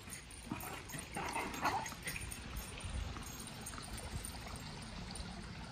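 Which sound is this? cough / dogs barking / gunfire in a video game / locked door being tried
dogs barking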